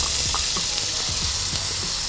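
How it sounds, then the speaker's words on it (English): Bacon sizzling in hot oil in a pan for stir-fried noodles: a steady, dense crackle with scattered sharp pops, close up, with no talking. "Gotta love that sizzle."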